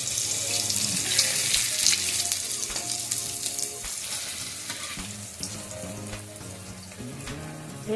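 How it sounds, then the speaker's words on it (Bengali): Pakoras frying in oil until browned, a continuous hissing sizzle with scattered crackles and soft stirring clinks, close and steady without any voices. "এইভাবে আমি পকোড়াগুলোকে লাল লাল করে ভেজে নেবো"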